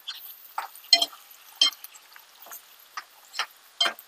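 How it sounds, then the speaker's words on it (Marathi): A spoon stirs a sauce mixture of green chili sauce and tomato sauce in a pan, giving scattered soft clinks and scrapes at an uneven pace, close and fairly quiet with no talk. "हलवून घ्यायचं"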